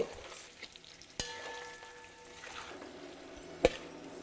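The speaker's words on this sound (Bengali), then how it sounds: "তারপর এটাকে ভালো করে মিশিয়ে নিন, ফ্লেমটাকে লো করে" Mutton being stirred and fried on a low flame for Kabuli pulao, a quiet, soft sizzle with occasional utensil clinks and scrapes against the pot.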